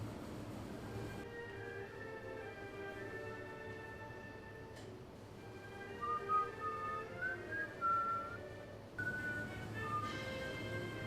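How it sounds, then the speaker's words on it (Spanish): Whistled notes, some sliding upward, rise out of a low, steady rumble with people talking in the background; the whistling is intermittent and moderately close. "Te he preguntado que si puedes dejar de silbar."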